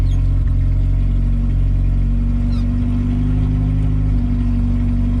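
A Honda Civic with a swapped B18B engine runs steadily nearby, a loud continuous engine drone with a slight rise in pitch partway through.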